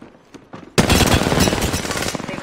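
Automatic gunfire in the video game Apex Legends, a loud sustained burst of rapid shots that starts abruptly after a quiet moment and keeps rattling to the end.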